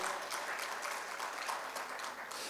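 Crowd applause at an Indian civic dialogue meeting on local development, a dense, even wash of many hands clapping at a moderate distance and continuing steadily throughout, with no voices over it.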